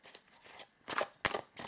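Tarot cards being shuffled by hand, a few short papery riffling bursts with brief pauses between them, close and fairly soft, with no talking.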